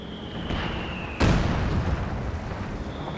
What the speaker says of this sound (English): heavy mortar strike landing hard. Combining up with the base howitzer fire.